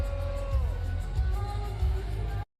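A large crowd at a Sonic Expo fan convention murmurs and cheers in a steady, moderately loud wash of voices, with a few whoops rising above it before an abrupt cutoff.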